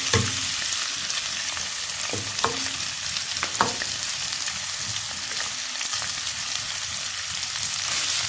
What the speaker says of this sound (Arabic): دلوقتي هنزل بالسجق انا مقطعاه